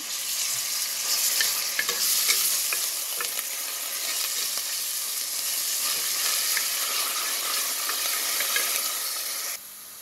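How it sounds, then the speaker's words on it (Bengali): Onions sizzle in hot oil in a pan for a bottle gourd curry, a loud, steady close crackle with faint stirring scrapes throughout, cutting off abruptly at the end. "আমি তেল আর পরিমাণ মতো পেঁয়াজ দিলাইছি।"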